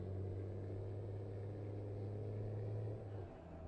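A video game truck with a 6.7 Cummins diesel engine idles in a low, steady rumble, deep and droning, then drops slightly near the end.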